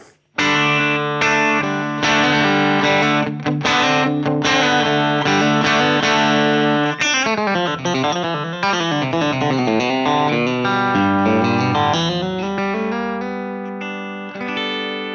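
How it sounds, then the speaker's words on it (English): Electric guitar played through a Boss HM2 distortion pedal, heavy and saturated, thick and buzzing, with sustained chords and riffs ringing out continuously. "next up is the Boss HM2, the old Swedish chainsaw"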